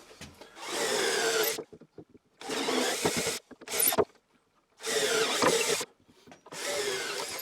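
A power drill bores holes through a wooden board in four loud, close bursts of whining, grinding drilling, each about a second long and separated by short silences.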